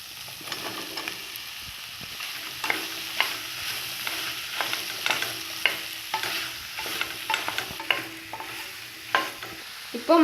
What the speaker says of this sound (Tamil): இப்போ மஷ்ரூம் ஓரளவுக்கு நல்லா ஃப்ரை ஆயிடுச்சு ஆயிலில்